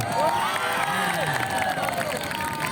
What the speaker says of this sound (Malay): Beri tepukan pada Cikgu Nizam.